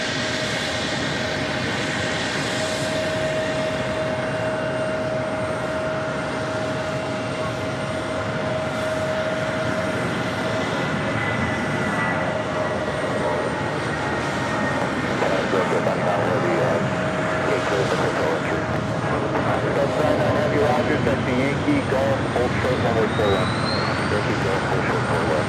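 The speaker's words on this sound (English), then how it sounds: "Norris coming in from London Gatwick, 787-9 Dreamliner" Norse Boeing 787-9 Dreamliner arriving from London Gatwick at JFK, a long sustained engine roar with a steady tonal whine, growing louder toward the end as voices talk intermittently.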